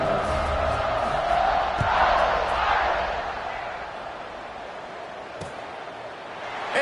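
Football stadium crowd at Notre Dame versus Navy roaring and cheering before a kickoff, a broad sustained wash of voices that peaks early, eases to a steady murmur, then swells again at the end.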